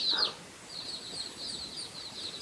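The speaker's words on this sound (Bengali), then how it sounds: "এই যে মুরগি সব ফুটাইছে, 16-17টা হয়ে গেছে।" A hen with her freshly hatched brood of about sixteen or seventeen chicks: a short burst of calls opens, then thin, high chick peeps come in quick repeated runs, faint and fairly close.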